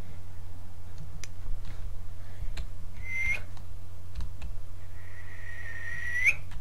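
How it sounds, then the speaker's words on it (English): A person whistles two short rising notes, the second long and sliding upward, over a steady low hum with faint clicks and ticks, and no one talks. "I'm so bad at whistling."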